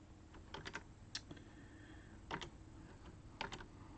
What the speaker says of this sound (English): I'm going to go right here and I'm going to type in